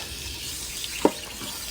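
Water flushing out of an RV water heater tank, a steady low hiss of rushing water throughout with one brief knock near the middle.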